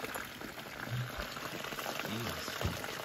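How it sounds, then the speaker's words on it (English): Small waterfall and stream running in a video game, a steady broadband rushing and bubbling of water flowing continuously at moderate level with no talk over it. "We got a little waterfall and everything."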